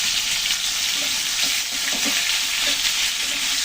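Green banana pieces fry with a little turmeric in a pan, giving off a steady, close sizzle with faint scraping from stirring throughout, and no talking.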